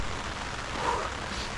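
Heavy, steady downpour drumming on a camping tarp over a hammock setup, a dense continuous hiss of rain with no breaks.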